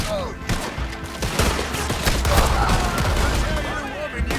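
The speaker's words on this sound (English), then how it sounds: "See, these guns just keep misfiring." Gunfire in Red Dead Redemption 2, a rapid fusillade of overlapping shots crackling across a few seconds, close and loud, with a voice reacting between bursts.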